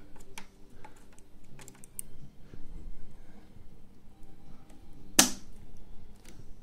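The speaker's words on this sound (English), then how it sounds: "that noise you just heard were the two side clips clicking in place and locking the RAM in" A RAM module's two side clips snapping into place while being pushed into a gaming PC motherboard, one sharp, bright click near the end after faint fumbling taps and handling noise.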